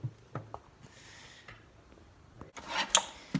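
Farrier's rasp scraping the front wall of a horse's hoof to bevel it, a club hoof: a few quiet rubbing strokes early, then louder, harsher rasping strokes near the end, close by.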